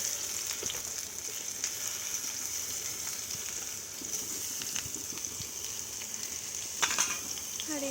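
Oil frying on a hot griddle (chatu), a steady close sizzle with scattered crackles and pops, one louder burst near the end, no talking.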